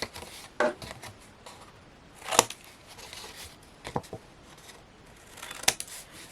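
Scissors snip across the corners of card for a Hunkydory Delightful Birds baby owl box, a few crisp separate cuts spaced a second or two apart over a soft rustling background, close and moderately loud.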